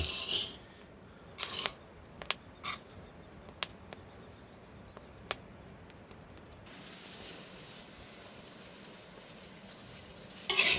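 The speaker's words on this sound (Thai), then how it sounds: "เสียงแตกนะครับ" Coffee beans roasting in a pan give off sparse, sharp cracks, about a dozen scattered pops over several seconds, followed by a steady hissing sizzle and a final cluster of louder cracks.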